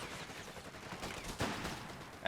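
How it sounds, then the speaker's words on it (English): Submachine gun fire from German MP40s in the Company of Heroes 3 strategy game, a low rattle of distant battle noise with a sharper burst near the middle and a loud hit right at the end. "I love how they're shooting with their MP40s at him, too."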